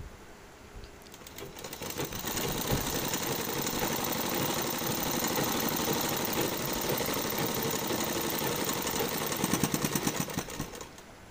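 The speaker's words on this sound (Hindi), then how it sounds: "अब इसको हम बराबर से ही सिलाई लगाते चले जाएंगे, बिल्कुल किनारी की सिलाई लगानी है।" A sewing machine runs steadily, stitching along the hem edge of a kurti with a continuous, close mechanical whir and rapid needle chatter that lasts nearly the whole stretch without pause.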